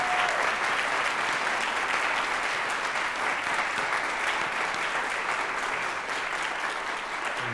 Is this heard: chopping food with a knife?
no